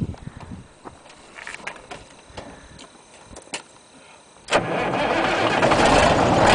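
A 1962 Mack H-67 wrecker truck is cranked with several short starter bursts and clicks, then the engine catches and settles into a loud, steady, rising idle.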